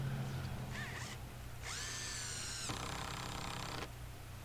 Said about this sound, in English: I'm using a structural decking screw, which of course is too short now that I went with actual 2x material, and so I'm countersinking them about 1/2 inch.